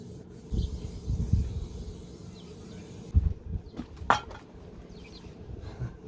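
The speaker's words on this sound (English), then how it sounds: "The old trusty microfiber cloth for the paintwork." A microfiber cloth is wiped over the paintwork of an Aprilia RX50 motorcycle in quiet, intermittent rubbing strokes, with short bursts of friction separated by pauses.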